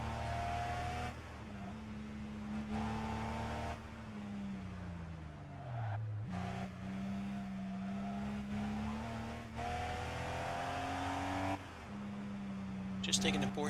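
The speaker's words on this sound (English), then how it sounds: "Just taking the Porsche out for a spin." Porsche engine in a racing video game set on Japanese roads, droning and revving with repeated gear changes, a brief tyre squeal, and someone talking over it throughout.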